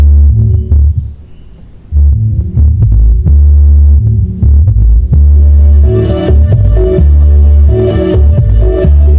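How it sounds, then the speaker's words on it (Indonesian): Loud, deep sub-bass thumping from a car subwoofer with tune control in a steady pulsing rhythm, with heavy low tones throbbing continuously and brighter beats joining in partway through. "ini suara sub saja"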